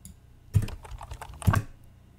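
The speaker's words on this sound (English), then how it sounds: "drag the keyboard sound" Keyboard typing sound effect: two short bursts of clattering key presses, the first at about half a second and the second near one and a half seconds, close and fairly quiet with no talking.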